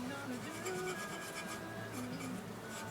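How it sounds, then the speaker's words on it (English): A wire brush scrapes back and forth over a custom metal wrench ring made from a Craftsman wrench, giving a steady, continuous rasping rub at close range with no break throughout. "Let me get a wire brush here. Scrape this off a little bit."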